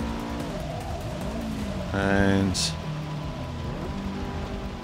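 Racing game car in wet weather in Forza 6, its engine droning steadily with a brief revving surge, accompanied by spray and hiss, with a voice talking over it.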